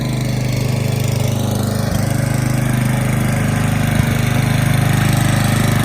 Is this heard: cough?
no